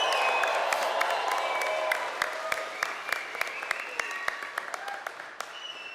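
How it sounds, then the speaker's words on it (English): Parents applaud graduates at the Henry Wise Wood 2025 graduation ceremony. A dense burst of clapping gradually thins into scattered individual claps. "Parents, give them a round of applause for their graduation."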